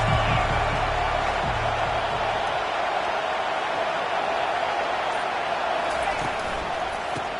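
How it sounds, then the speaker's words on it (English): Crowd noise from an American football video game featuring the Sooners: a dense, unbroken stadium roar holding at a loud, even level throughout, with no spoken words. "This crowd trying to make life miserable for this offense."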